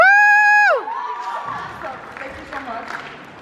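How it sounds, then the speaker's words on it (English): A singer named Sarah holds a final sung note that breaks off, then a live audience erupts in loud cheering, whoops and scattered applause, sustained crowd noise that fades slightly toward the end. "Another round of applause for Sarah."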